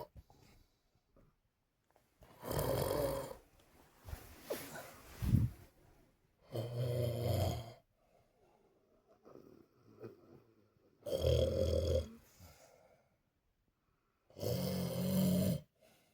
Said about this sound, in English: I can't sleep with you snoring.